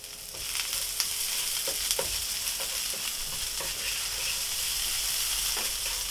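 Tilapia sautés with salt and fish sauce in a pan, giving a steady, close sizzle with faint clicks from a stirring utensil, and no voices over it.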